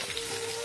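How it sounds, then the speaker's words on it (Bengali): Cauliflower fries in a pan, giving a constant dense sizzle and crackle, close up and even in level, with no talking. "ফুলকপিটাই ভাজা ভাজা করে নিচ্ছি"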